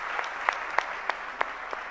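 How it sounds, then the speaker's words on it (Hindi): A few people clap in a thin, sparse patter of distinct claps, faint and slightly distant, lasting about two seconds. "जरा तालियां जरूर बजाइएगा।"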